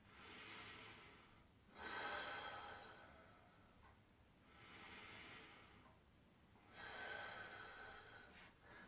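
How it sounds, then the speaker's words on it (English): Slow, deep breaths taken while holding a hamstring stretch during sacroiliac joint exercises, three long airy inhale-exhale cycles close to the mic with quiet pauses between, no talking. "I'm going to work on 5 deep breaths."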